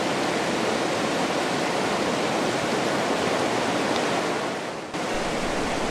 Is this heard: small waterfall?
yes